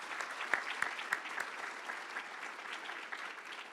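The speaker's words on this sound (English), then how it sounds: "Let's give them a round of applause." A modest audience at a workforce summit applauds the organizing staff, fairly quiet scattered clapping with a few distinct nearby claps standing out, continuing evenly to the end.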